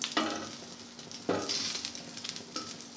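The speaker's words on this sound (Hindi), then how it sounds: "इसके स्लाइस को ब्रेड के इस तरह से डिप करेंगे और तवे पर डाल देंगे" Egg-dipped bread slices frying on a griddle over a low flame, a steady sizzle broken by a few sharp spatter bursts, close and clear with no speech.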